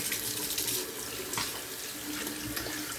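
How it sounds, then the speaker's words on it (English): A bathroom tap runs cold water for a rinse during a wet shave, a steady close splashing stream into the sink without talk. "Cold water rinse."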